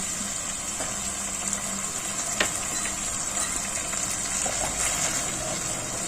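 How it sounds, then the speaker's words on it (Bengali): Water pours into a pan of potato curry with a continuous soft gushing splash over a low bubbling simmer, steady and close from start to end with no speech. "আমি আর একটু সামান্য জল দেবো"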